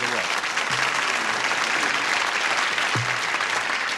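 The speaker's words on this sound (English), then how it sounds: "you don't have to give us that polite applause" A television game show studio audience claps in a steady wash of applause that holds for several seconds, with a few faint voices briefly under it.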